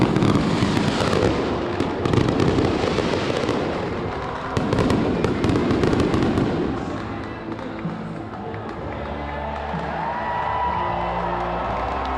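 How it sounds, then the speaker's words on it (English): Loud fireworks finale at an LSU baseball national championship celebration at Alex Box Stadium, a dense barrage of bursts and crackles with crowd noise underneath, dense through the opening seconds then easing into a steady rumble. "it looks like this might be our grand finale of the fireworks"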